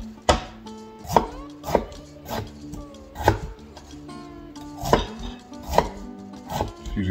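A fork jabs holes in potatoes on all sides, and it sounds like a run of about ten sharp, close knocks at an uneven pace, each with a short hollow ring like chopping on a board.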